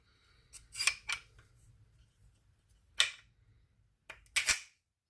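The action of a Ruger Charger pistol is worked back and forth, giving sharp metallic clacks in clusters of two or three with quiet gaps between them, close and crisp with no talking.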